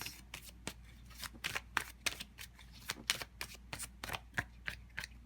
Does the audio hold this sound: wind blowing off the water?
no